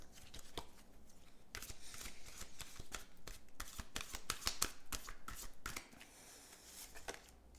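A deck of tarot cards is riffled and handled at close range, giving quick, crisp bursts of papery flicks and snaps in uneven clusters that grow busier in the middle, followed by a quieter draw.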